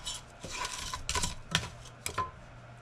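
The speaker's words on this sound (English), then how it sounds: "So I'm going to let this start to saute up." Roughly chopped garlic begins to sauté in a pan, heard as a faint sizzle under several close, sharp clinks and scrapes of a utensil against the pan.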